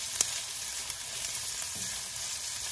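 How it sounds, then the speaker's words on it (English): Sauce ingredients sauté in a pan for Panamanian Johnny Marzetti pasta, giving a steady, even sizzle throughout, with one small tap near the start and no talking. "saute this up."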